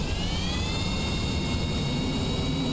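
Jet engines on a spacecraft launching in the Kerbal Space Program video game roar in a steady, loud, continuous rush with a rising whine layered above the low rumble.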